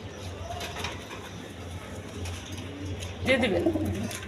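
Silver pigeons coo in a breeder's loft, soft low throaty calls repeating near and far, with a louder burst of cooing near the end and a voice talking over them.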